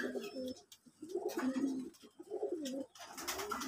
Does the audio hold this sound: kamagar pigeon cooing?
yes